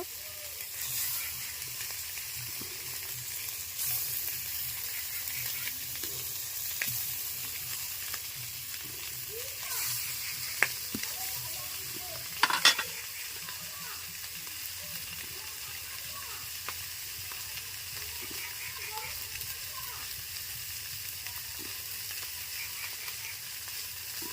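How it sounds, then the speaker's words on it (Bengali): Large katla fish head frying in hot oil, a continuous crackling sizzle throughout with occasional clinks and scrapes of a utensil, close and fairly quiet, with no talking. "এই যে বড় কাতলা মাছের মুড়োটা ভাজছি, ভেজে নিই মাছগুলো।"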